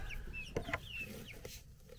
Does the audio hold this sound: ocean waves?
no